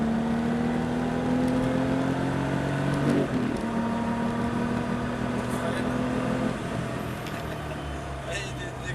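A car under steady throttle on a driving track during a lesson, its engine holding a constant hum with a pitch shift near the middle and again toward the end, heard from inside while an instructor's voice talks over it.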